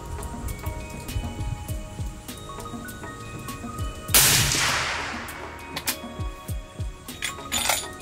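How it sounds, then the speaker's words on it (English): A Howa rifle chambered in .300 Win Mag fires one loud, sharp shot partway through, and its blast rolls off into a long fading echo amid scattered small clinks and rustles. "Shoot a few more and see how we do."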